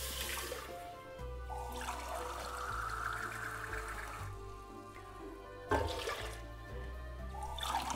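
Cold water poured from a container into a pot holding a flour roux for lentil soup, with a steady running gush that continues close and fairly loud for several seconds, pausing briefly and then resuming.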